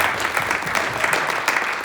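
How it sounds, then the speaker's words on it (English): Applause from an Iowa town hall audience; dense, steady clapping from many people filling the whole moment. "Let's give him a round of applause."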